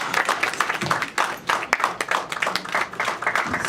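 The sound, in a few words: audience applause for police officers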